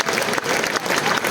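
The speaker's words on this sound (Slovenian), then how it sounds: "zaploskajmo jim" An audience at the Ljubljana Festival summer night concert applauds the vocalists, a dense, loud, continuous clapping from a large crowd.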